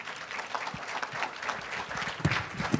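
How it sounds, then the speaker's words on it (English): Applause from a seated audience after a diversity think tank panel discussion, moderate and steady clapping with a few louder claps near the end, slightly distant in the room. "Please join me in giving the panelists a round of applause"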